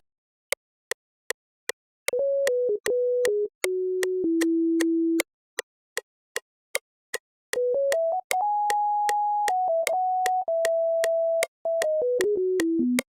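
Sine wave synth lead played in a melodic RnB loop, with many grace notes and varied velocities, gliding between pure sustained tones over a steady ticking percussive pulse, clear and close with no voices.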